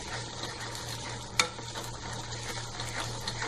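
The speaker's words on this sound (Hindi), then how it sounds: "हमें इसे बीच बीच में चलाते भी रहना है ताकि हमारा मसाला तले में जाकर सटे ना, जले ना" Masala sizzles and fries steadily in an open pan for a paneer do pyaza, with a spoon scraping through it once partway and a constant close hiss throughout.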